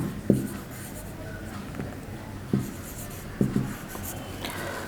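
A pen writes on paper while accounting figures are worked out, giving a few faint scratching strokes in short bursts over quiet room tone.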